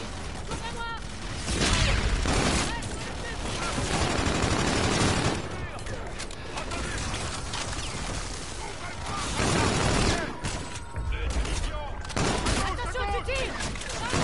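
Dense war video game combat: continuous gunfire bursts and grenade blasts at full loudness, with shouted voices mixed throughout the din.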